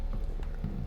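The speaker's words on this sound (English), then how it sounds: "Un caballo." Horse hooves clip-clop in The Witcher 3, a quick run of soft, muffled thuds over a low rumbling background, brief and continuous with no talking.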